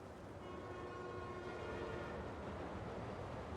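A train passing in Marvel's Spider-Man 2: a continuous broad rumble and rattle of rolling cars with faint tonal whistle-like lines, steady and fairly loud over the whole stretch.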